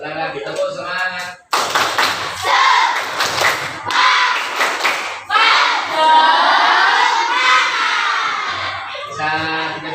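A classroom of students performs the tepuk semangat clapping chant, loud close rhythmic bursts of hand claps and thumps mixed with shouted voices, with brief pauses between rounds.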